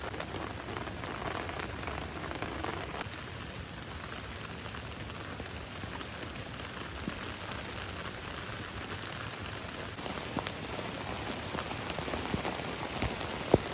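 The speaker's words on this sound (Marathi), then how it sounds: "पाऊस बघा, निस्पट पाऊस चालू झाला परत, जोरदार पाऊस" Heavy monsoon rain pours down steadily at a campsite, a loud, unbroken hiss of drops drumming on surfaces and tent with no letup.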